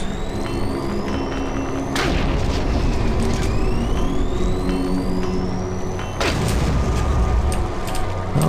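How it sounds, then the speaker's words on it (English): A grenade blast in Doom 3, heavy booms landing around two and six seconds over a constant mechanical hum and whirring tones, loud and close with no talking. "I blow myself up with a grenade"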